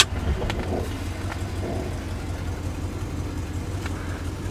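A police car rolling in reverse, its engine running low and steady close by with a faint rumble and no one speaking.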